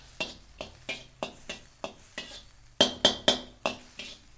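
Carrots being stir-fried in a pan for chicken kung pao, with about fourteen evenly spaced spatula scrapes and clinks against the metal, steady and close, a few sharper strokes in the middle, no talking.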